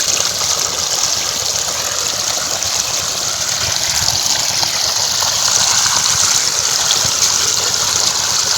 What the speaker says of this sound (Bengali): এই যে জল চালিয়ে দিয়েছে বাবা আওয়াজ পাচ্ছি মোটরটি এই যে চলে এসছে